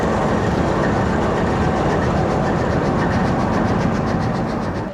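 A passenger train departs Gujranwala station on the Lahore to Havelian route, a loud steady rumble of wheels and carriages rolling along the track with faint rhythmic clatter, heard from on board.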